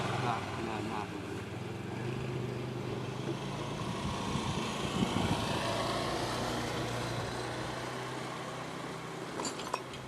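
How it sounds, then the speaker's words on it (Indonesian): A Kubota RD105 10 HP single-cylinder engine runs steadily with a knocking fault, its continuous close mechanical clatter and hum filling the whole stretch with no pause. "Mesin kubota 10 PK, mesinnya bunyi jedak-jedak"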